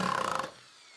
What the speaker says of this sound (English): you're gonna wanna just drive in the screw through whatever you're attaching into the concrete